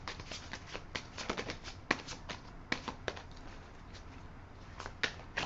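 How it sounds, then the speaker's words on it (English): Tarot cards are riffle-shuffled and handled, producing quick bursts of crisp fluttering snaps and soft slaps in irregular clusters, close and fairly quiet, with no talking. "I have got to be able to shuffle my cards"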